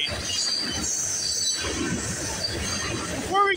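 GO commuter train passing close by, a continuous rumbling roll of wheels with a high metallic squeal rising near the end, and a voice talking briefly over it.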